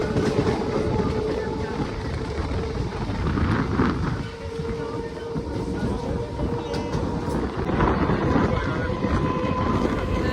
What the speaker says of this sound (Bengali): নটা ছত্রিশে আমরা কিন্তু উঠেছি ট্রেনে